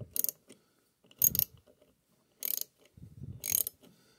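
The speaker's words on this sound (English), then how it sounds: "And they just unscrew," Torx T15 screws are backed out of rubber bumpers on a Lincoln Navigator running board, giving four short clicking, ratcheting bursts separated by pauses, close and fairly quiet.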